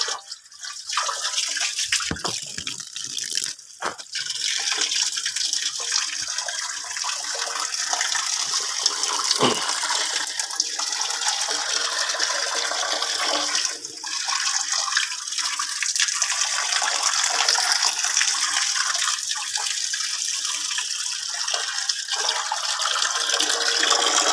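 Water runs steadily while a frog pond is being cleaned, a continuous loud hissing splash with a few brief knocks early on, lasting throughout with no talking.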